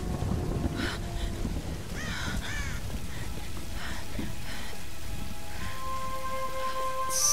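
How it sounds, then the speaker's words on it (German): Storm rain in the Tomb Raider video game pours steadily across the whole stretch, a dense hiss with gusts of wind, while crow-like caws and other brief calls rise over it now and then. "Der Sturm wird stärker."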